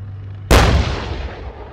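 A Leopard tank's main cannon fires once on a Danish military range with a sudden loud blast, then a long rolling rumble that fades over the following second.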